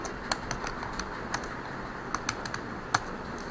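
Keystrokes on a computer keyboard, irregular light clicks with a few sharper taps standing out over a steady background hiss, no voices.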